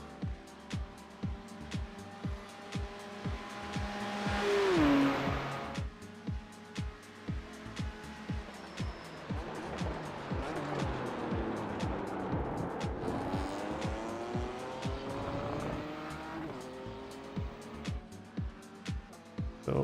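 BMW GT3 race car lapping the Fuji circuit in a racing game, engine climbing and dropping through rapid gear shifts, with bursts of tire squeal and a swelling roar near the middle, steady and close throughout.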